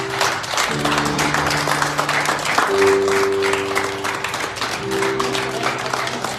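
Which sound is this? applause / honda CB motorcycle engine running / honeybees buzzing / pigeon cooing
applause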